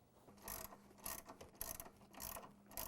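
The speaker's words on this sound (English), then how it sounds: "We will hand tighten the nuts, and then we'll use a 9/16 inch wrench to tighten them." A 9/16 inch wrench ratchets nuts tight on the handlebars of a DR stump grinder during assembly, making four or five close, quiet bursts of rapid clicking separated by short pauses.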